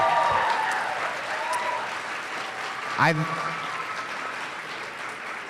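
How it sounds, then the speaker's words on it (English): An elementary school audience at a community event applauds for students, steady clapping that fades slightly while a voice speaks briefly in the middle. "Let's give a round of applause to these amazing kids."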